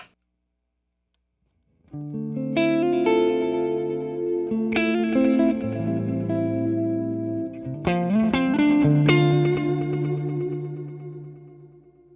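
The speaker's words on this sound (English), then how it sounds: "Here is my guitar without it." Clean electric guitar with no pedal engaged, strummed chords and short single-note runs after a brief silence, carrying only a touch of light grit and some ambient echo.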